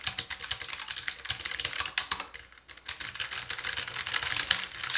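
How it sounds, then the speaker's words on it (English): Rapid, dense clicky typing on a Keychron K1 wireless mechanical keyboard with blue switches, close and steady with a brief pause midway, then continuing keystroke bursts. "I'm gonna do a little typing test here."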